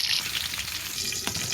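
Hilsa fish frying in hot oil in a pan, a steady close sizzle with brief pops and crackles and no talk.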